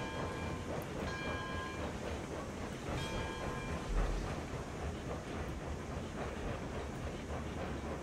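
A steam locomotive in the RailRoads Online video game runs on a foggy day with a steady, continuous chuffing rumble. Faint tonal ringing rises briefly over the rolling noise.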